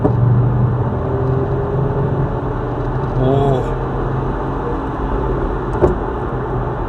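A 2026 Mercedes-AMG CLE 53 cabriolet in Sport Plus mode gives a deep, steady engine drone inside the cabin with a brief swell partway through, while people talk over it.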